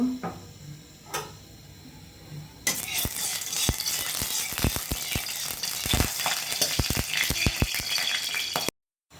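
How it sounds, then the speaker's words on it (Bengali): A quiet start with a few clicks, then a loud burst of sizzling as stinging catfish hits hot white oil in a kadai, crackling and popping steadily until it cuts off. "এবার ভালোভাবে আমি একটু ভেজে নেব"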